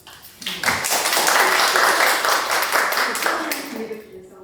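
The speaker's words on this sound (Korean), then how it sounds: "먼저 우리 신윤영 의원님 박수로" Audience applause at a panel discussion, a sustained burst of clapping that swells quickly and fades out after about four seconds, with some voices mixed in.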